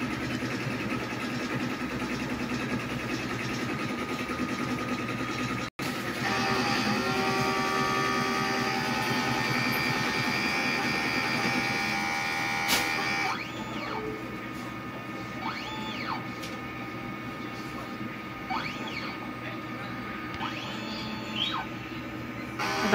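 A DTF printer runs its print head cleaning cycle: a steady mechanical hum and whir with a sharp click, then the pitch shifts and faint rising motor sweeps come and go, close and continuous with no talking.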